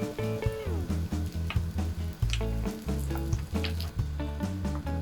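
Ingredients fry in a pan over medium heat for a breadless toast with egg, pressed down with a spatula, giving a steady close sizzle with soft scraping and tapping throughout, no talking.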